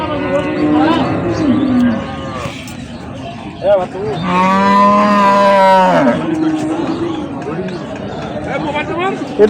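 A dairy cow at Ambari cattle market in Dinajpur gives one long, loud moo in the middle, with people talking before and after it.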